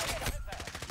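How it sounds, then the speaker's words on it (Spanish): Gunfire in the Modern Warfare video game, heard as a quick burst of rapid repeated shots with a rattling rhythm at moderate level, alone without speech. "Verá tú los tiros lejanos"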